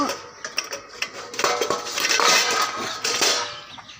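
A metal cooking pot is picked up and shifted in a home kitchen, giving irregular clanks and scrapes that grow busier toward the end.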